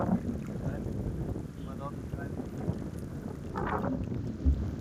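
Steady gusty wind buffeting the microphone outdoors as rain starts, a continuous low rush with a brief faint tone in the middle.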